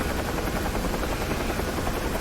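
UH-1H Huey helicopter in the DCS flight simulator over Dubai, a steady loud rotor and turbine roar with a dense rhythmic chop running throughout, close and continuous.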